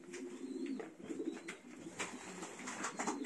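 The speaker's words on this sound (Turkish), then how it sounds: "Paçalı güvercinlerim var iki tane." Two young feather-footed pigeons, about two weeks old, coo softly in low, throaty phrases that repeat through the clip against faint background noise.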